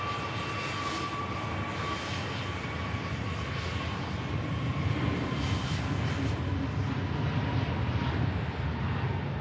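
An airliner on its takeoff roll at Manchester Airport gives a sustained, broad engine roar with a faint steady whine on top. It holds fairly level and carries from a moderate distance, with no speech.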